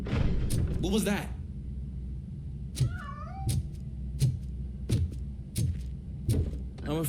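A cat meows a few times in the video game RoboCop: Rogue City, among thumps and game sounds, with someone talking over it.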